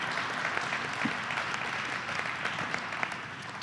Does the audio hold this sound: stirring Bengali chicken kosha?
no